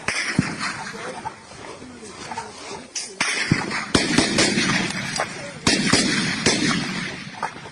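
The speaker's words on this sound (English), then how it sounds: "Look at where you are firing, oh." Gunfire during armed fighting in the Biafra region, scattered sharp shots and heavier bangs at irregular intervals, some close and loud, others more distant, heard under tense shouting and talk.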